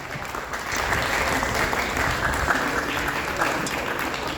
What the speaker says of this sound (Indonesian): Boleh minta sekalian tepuk tangan yang meriah buat kita semua.